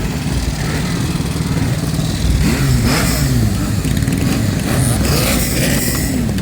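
Motorcycles rev and roar at Pesaro Bike Week in Italy, loud engines swelling and falling with overlapping throttle blips and a busy outdoor crowd backdrop.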